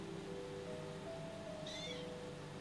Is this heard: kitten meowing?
yes